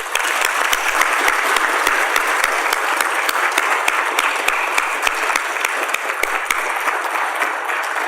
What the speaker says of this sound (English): I would like all of us to applaud our guests in a way that befits